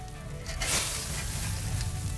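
Grilled oysters boil and sizzle hard in their shells over a live fire, a loud, continuous crackling hiss that swells briefly near the start and then holds steady.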